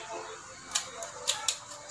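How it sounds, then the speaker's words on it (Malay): Eco kitchen scissors cutting through fish scales, heard as three or four crisp, close snips spaced unevenly across a short stretch. "Boleh gunting sisik ni"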